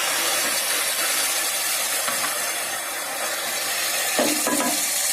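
Tomato paste frying in a pan with mutton, a soft steady sizzle with faint stirring scrapes and a couple of brief clatters near the end.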